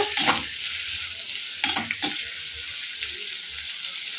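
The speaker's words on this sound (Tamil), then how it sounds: "வெங்காயம் வதங்கிட்டு இருக்கும் போதே நம்ம கொஞ்சம் சால்ட் சேர்த்துக்கலாம்" Onions sauté in a hot pan with a steady, close sizzle, broken by a few scraping stirs near the start and middle.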